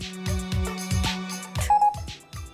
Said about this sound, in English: I'm getting a call